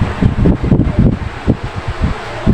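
A large household refrigerator with a big motor at the back running loudly indoors: a close, uneven whirring rumble that swells and dips in quick pulses, with no talking.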